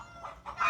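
Chickens clucking close by at a rural Thai home, a few short throaty clucks that rise in a brief sharper burst at the end, with no talking.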